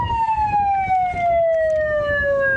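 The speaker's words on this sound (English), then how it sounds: "I think the siren's going to go, just as we say that." Quarter-time siren at an Australian football match in the NTFL Men's Premier League, a loud steady wailing tone gliding gradually downward, sounding over a background of crowd noise.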